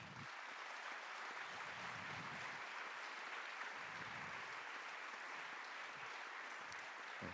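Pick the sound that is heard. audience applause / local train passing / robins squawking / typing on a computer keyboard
audience applause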